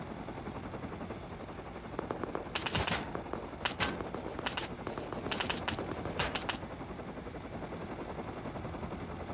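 AK rifle gunfire in the survival video game Rust, several short bursts of fairly distant shots spaced across the clip over a steady background hiss.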